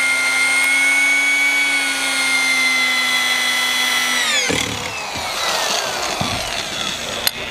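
A loud power drill boring into a log home's timber whines steadily with a high harmonic drone, then winds down after about four seconds into rough grinding and scraping noises.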